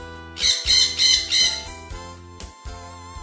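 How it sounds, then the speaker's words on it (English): A parrot lets out a rapid run of four harsh, loud squawks close by, followed by a couple of fainter calls, with no one speaking. "Parrot."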